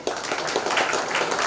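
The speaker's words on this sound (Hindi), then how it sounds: "इसके लिए भी तालियां हो जाए।" A crowd claps at a company launch event, giving a dense, steady burst of applause that holds at an even, fairly loud level throughout.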